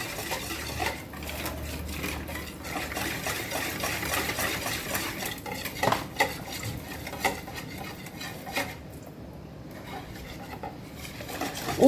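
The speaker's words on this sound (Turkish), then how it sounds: "Pürüzsüz olması için iyice çırpıyorum." Runny flour batter for vegetable crepes whisked steadily in a bowl, a continuous rapid scraping and clicking that runs close and fairly loud for about twelve seconds, with no voices.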